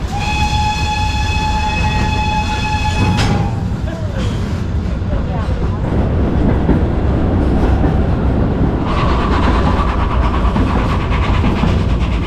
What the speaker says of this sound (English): This ride takes you along old narrow-gauge tracks, winding through villages and valleys